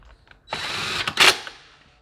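A power drill drives screws back into a Burromax mini bike in a single, close, high-pitched whir that lasts about a second and ends abruptly.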